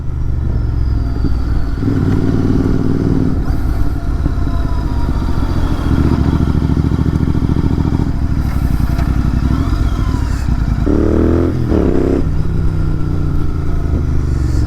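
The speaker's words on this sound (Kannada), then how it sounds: "ಯಾವಾಗ 3K ಮೇಲೆ ಎಳಿತೀರಾ, ಗಾಡಿ ಹಿಂಗೆ ಕಿರ್ಚುತ್ತೆ ಗುರು ಹಿಂಗೆ" A Royal Enfield Continental GT650 in Slipstream Blue pulls hard above 3000 rpm, its engine climbing in loud repeated surges with gear shifts, the pitch sweeping up sharply near the end over constant wind and road roar.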